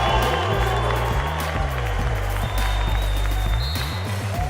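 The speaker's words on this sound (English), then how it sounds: "this crowd is lit in Charleston" Arena crowd at a Marquette vs. West Virginia college basketball game at the Charleston Classic, a steady loud roar with cheering throughout, mixed with commentators talking over it.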